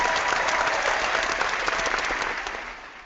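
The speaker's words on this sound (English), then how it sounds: "Please give a warm welcome, a big round of applause" A burst of enthusiastic applause from an audience, dense clapping that gradually fades out over a few seconds.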